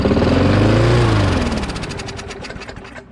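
A Poulan PXT12538 lawn tractor engine cranking after priming, a loud strained churning that slows and sputters into uneven knocking over about three seconds, heard up close with no talk.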